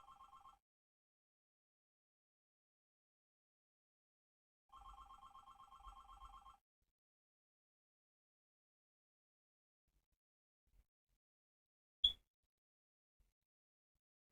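A telephone rings in two electronic trilling bursts separated by a long pause, faint and alone, followed by a single soft click.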